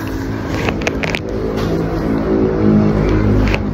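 A car engine warming up after a cold start, a loud close idle that swells into a steady rev with small clicks over it, no speech.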